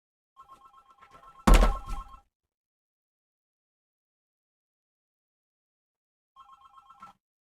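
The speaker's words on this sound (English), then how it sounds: "What is with this goddamn phone every time?" A telephone rings in two short bursts of electronic trilling separated by a long quiet gap, with a loud thump or knock landing just after the first ring.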